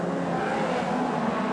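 Race cars in a Red Light Series F2 feature race roar steadily around a track, a dense, continuous engine drone with no gaps, loud and close throughout.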